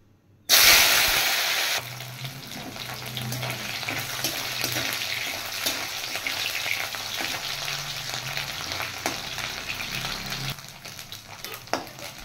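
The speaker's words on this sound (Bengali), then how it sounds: "লোটে শুটকি ফ্রাই করে নেব।" Dried Bombay duck fish (lote shutki) drops into hot oil with a loud initial burst, then settles into a steady crackling sizzle with stirring scrapes throughout.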